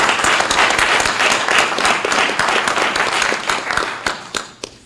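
An audience at an indoor briefing breaks into sustained applause, many hands clapping together in a dense, even wash that fades out over the final second.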